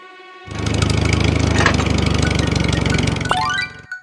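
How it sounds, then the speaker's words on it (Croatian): A tractor engine runs steadily and loudly, its low mechanical rumble chugging at a close, even pulse, with a bright springy effect sound near the end before the noise cuts off. "Traktor."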